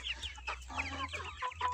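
Two-month-old Liven marbled chickens kept at home cluck and chirp in quick, overlapping bursts, several birds close by over a low steady hum.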